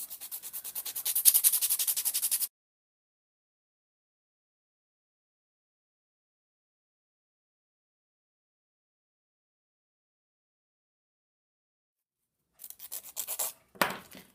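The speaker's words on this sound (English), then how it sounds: "we're going to grab our coarse file and we're going to start sanding the nail" Rapid rasping strokes of a coarse file sanding an acrylic nail, close and steady at first, then a long silence before a few more scratchy bursts.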